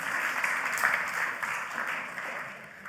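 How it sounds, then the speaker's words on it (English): An audience applauding a volunteer called up on stage, a short, fairly faint burst of clapping that tapers off toward the end. "Everyone give Phil a round of applause"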